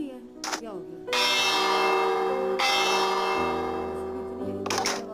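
A loud church-style bell ringing in a video game, several resonant strikes with long ringing sustain, each new strike layering over the decay of the last.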